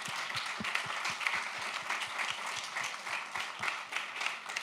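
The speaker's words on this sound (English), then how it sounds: "So an applause to not us" Audience clapping at the Open Source Day 2024 conference, a fairly quiet but continuous patter of many hands with some distinct individual claps standing out, sustained for the whole stretch.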